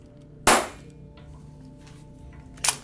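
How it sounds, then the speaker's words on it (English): A pistol fired as a contact shot with the muzzle pressed into a rag gives one sharp, loud muffled crack early on, then a quieter second burst of noise near the end, both standing alone over a low steady background hum. "I'm going to make it a contact shot. So I've got the pistol pressed against a rag."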